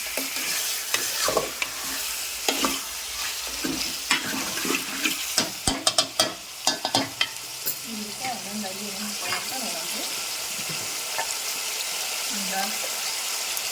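Half a kilo of mutton fries in a pan for a masala curry, giving a loud, continuous sizzle broken by a run of clattering stirs and scrapes, with a voice briefly audible underneath.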